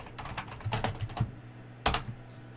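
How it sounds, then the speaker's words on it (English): Rapid clattering keystrokes on a computer keyboard during a livestream, coming in quick bursts with short pauses, close and fairly quiet with no talking. "Good lord, what you typing?"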